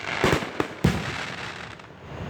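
Fireworks at a Fourth of July show burst in two or three sharp, fairly close explosions with crackling tails, then fade into a low outdoor rumble.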